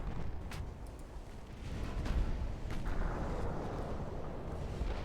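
Heavy naval gunfire in the battleship strategy game Ultimate Admiral: Dreadnoughts, several deep rumbling booms rolling over continuous low battle noise at moderate level, with no talk.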